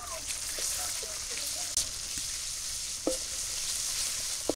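Chopped onion, garlic and ginger paste hit hot oil in a village kitchen, giving a loud, continuous sizzle with occasional sharp pops and stirring clicks throughout.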